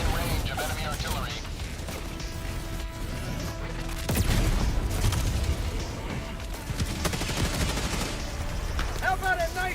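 Enemy artillery fire and gunfire in the Helldivers 2 video game, a dense continuous barrage of crackling shots and heavy booms with a louder surge midway, with voices talking over the battle.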